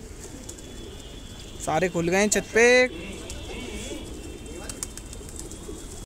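Soft cooing from a large flock of pigeons, white and Iranian breeds, murmurs in the background while someone speaks briefly, close by.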